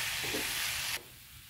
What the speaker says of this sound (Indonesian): terakhir saya tambahin telur ya, Mam. Kemudian diaduk-aduk biar rata telurnya.